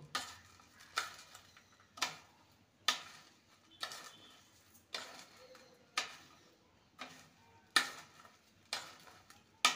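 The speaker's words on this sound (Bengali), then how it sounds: "এবার সমস্ত কিছু ভালো করে মেখে নেব।" Fried kabuli chana snack being mixed with black salt, a rhythmic series of sharp scraping and rattling strokes of crunchy chickpeas in a bowl, repeating about every second, close and clear with no talking.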